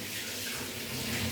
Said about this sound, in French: Maintenant, on va déjà me rincer les mains.